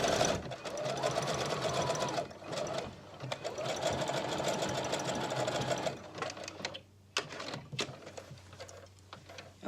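A sewing machine stitches ribbon tucked underneath fringe, running in close, rapid bursts with brief pauses and a slower, stop-start finish, and a voice speaks faintly underneath.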